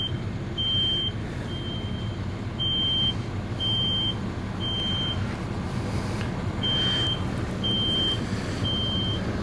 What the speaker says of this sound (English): You hear the smoke alarms going off.